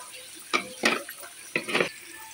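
Potato pieces with turmeric and salt sizzle and scrape in a pan while a utensil stirs them in a few short bursts, fairly faint and close, with a soft background hiss.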